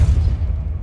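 A Depulso spell effect in the video game Hogwarts Legacy, heard as a brief, loud, low booming rumble close up that fades within a second.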